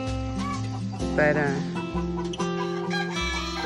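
Chickens cluck and squawk in their new enclosure, busy overlapping calls close by and fairly loud, with a brief word spoken over them.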